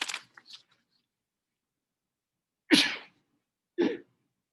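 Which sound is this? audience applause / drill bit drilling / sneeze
sneeze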